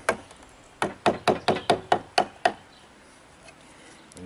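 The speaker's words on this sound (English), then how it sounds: "take that V tool" A V tool struck repeatedly while carving grooves into a maple walking stick, giving about eight sharp close wooden knocks in a quick even rhythm, then quiet.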